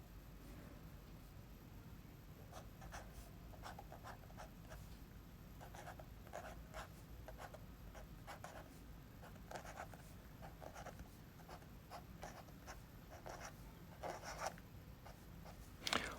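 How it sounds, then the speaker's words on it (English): Handwriting with a Pilot silver 6mm marker on paper: quiet, steady scratchy strokes in irregular bursts over continuous low background hiss, with no voices. "this is a great marker for writing, just normal handwriting at 6mm."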